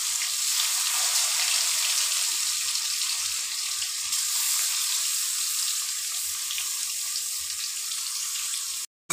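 Rohu fish pieces fry in mustard oil with a loud, continuous sizzle that holds evenly close by before stopping abruptly, with no voices.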